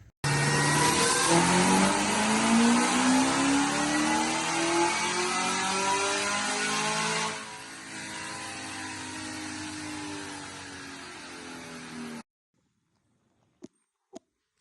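A Chevrolet Camaro ZL1 roars on a dyno at close range. The engine climbs through a long sustained rev, eases into a lower steady drone and then cuts off abruptly, leaving a few faint clicks in the quiet.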